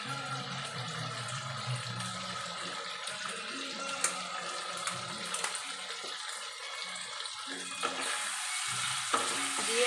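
Aloo dum masala stir-fried in a pan, a steady close scraping and stirring with a soft sizzle running throughout, brief clinks along the way and a slightly louder stir near the end.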